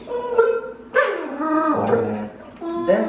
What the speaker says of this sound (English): That's a little girly bark, but that's good enough.